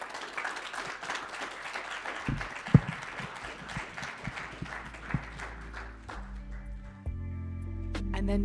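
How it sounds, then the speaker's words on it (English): Audience applause thanking a speaker after a talk, scattered clapping that thins out over several seconds before giving way to music-like tones and background noise. "let's join me in a round of applause in thanking our speaker today"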